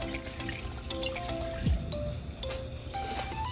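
Water poured for an oxtail brine of about three cups water to one cup apple cider vinegar, a steady close trickle and splash running throughout, with no talk.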